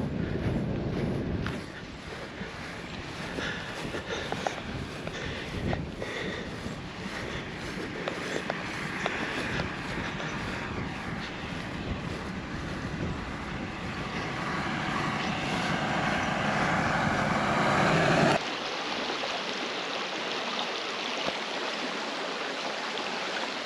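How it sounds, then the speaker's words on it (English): A tractor approaches along a countryside walking path on the Exe Valley Way in Devon, its low rumbling engine drone holding steady and growing slightly louder before cutting off abruptly, leaving quieter outdoor ambience. "I notice there's a tractor coming towards us."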